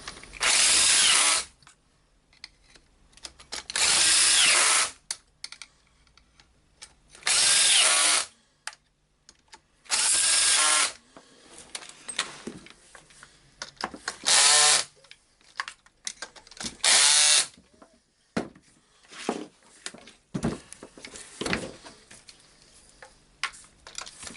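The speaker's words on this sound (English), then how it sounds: "tightening the screws" Power driver tightening screws while a Hilti TE 905-AVR demolition hammer is assembled, several loud whirring bursts of a few seconds each separated by pauses, followed by shorter clicks and clatter of handling parts.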